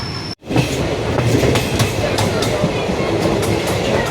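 A train between Tiruchirappalli and Thanjavur rumbles loudly along the rails with steady clickety-clack beats from the wheels, a continuous close, heavy roar after a brief cut at the start.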